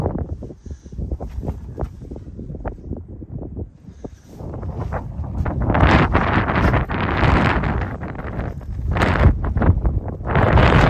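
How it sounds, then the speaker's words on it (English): Wind gusts blowing outdoors around a Caterpillar E70B excavator, buffeting the microphone with rumbling, rustling noise that swells and grows louder through the second half. "The wind is trying to blow a little bit today, which makes it always unpleasant."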